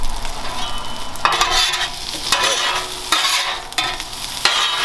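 Potatoes frying on a Blackstone griddle for a breakfast scramble, tossed with a metal spatula in several loud scraping sweeps over a strong, continuous sizzle, close up and unaccompanied by speech.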